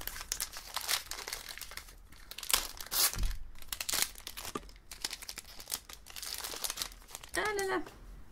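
Pokémon Sword and Shield booster pack foil crinkling and tearing open up close, in bursts of rustling and ripping between pauses, with a person talking over it.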